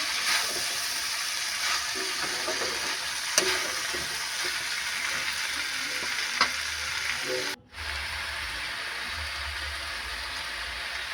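Pumpkin greens curry with turmeric and spices frying in a pan, a steady close sizzle with soft scraping stirs throughout and a brief break near the end, no talking.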